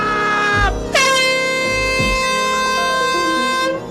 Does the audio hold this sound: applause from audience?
no